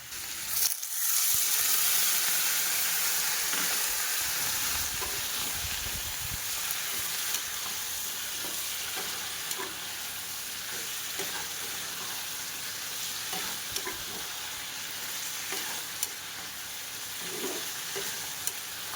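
Pumpkin and chickpeas sizzle steadily in a hot pan while being sautéed, with occasional soft scrapes and clinks of a spoon stirring through the mixture across the whole stretch.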